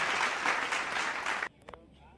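Audience applause at a community award ceremony honouring leaders, a dense burst of clapping from a crowd that stops abruptly after about a second and a half, followed by a few faint scattered claps and quiet.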